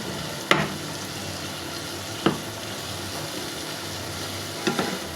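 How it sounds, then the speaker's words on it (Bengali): Eggplant, tomato, onion and green chilli sautéing with cumin in a pan, steady sizzling broken by three sharp utensil knocks of stirring. "জিরার ফোড়নে বেগুন, টমেটো, পেঁয়াজ, কাঁচামরিচ কষিয়ে নিলাম।"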